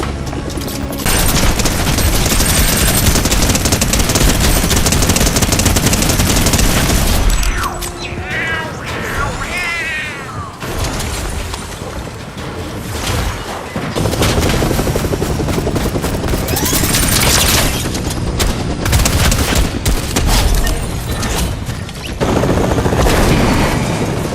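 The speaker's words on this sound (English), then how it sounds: "the next weapon we get is the Piao Piao rifle" Rapid bursts of gunfire from the Piao Piao rifle in Fortnite ring out loud and dense over game music and effects, pausing briefly midway before the firing resumes.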